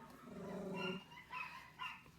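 Dogs in a home bark and yip in short bursts, fairly faint and muffled, with a few separate barks spread across the moment and no talk over them.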